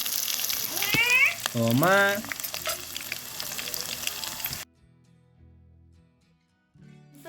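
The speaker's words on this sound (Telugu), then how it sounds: "మంచిగా ఆయిల్ అయితే ఫ్రై చేసుకుందాం వెజిటేబుల్స్" Onion and carrot frying in oil in a home kitchen, sizzling loudly with brief stirring, a voice speaking over it before the sound drops away to near silence.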